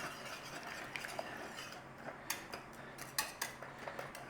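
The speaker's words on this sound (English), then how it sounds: "Give it a little stir in." A spoon stirs creamed tuna and rice in a pot, giving faint scattered clinks and scrapes against the pot over a low background hum, with no talking.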